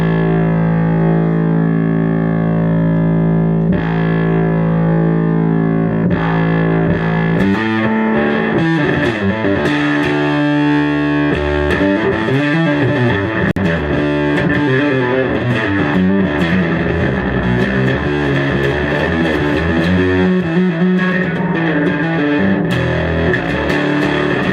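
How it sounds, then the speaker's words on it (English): Heavily distorted electric guitar played through an Acoustic 450 amplifier, chords and riffs ringing loud and continuous, harsh and fuzzy with no talking. "This is not a hi-fi sounding distortion."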